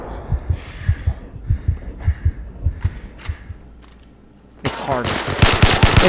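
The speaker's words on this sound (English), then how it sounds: "Off we go to get killed by gun turrets." Gun turrets fire in the VR shooter Zero Caliber during a co-op water base mission, a string of rapid, punchy bursts with a brief lull before a denser, louder volley.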